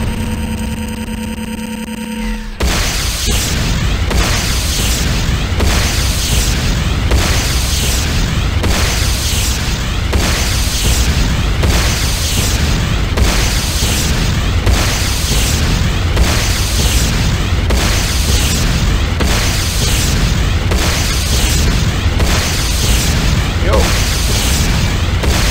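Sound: explosions of power plant being destroyed, video game C&C Renegade

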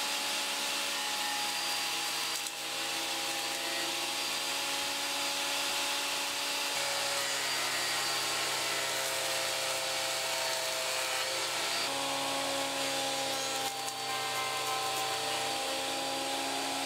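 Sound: planing rough sapele wood on a planer

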